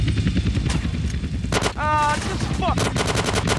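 Gunfire in the video game GTA San Andreas: rapid bursts of automatic shots rattle throughout, loud and close, while a game character's voice speaks briefly over the shooting.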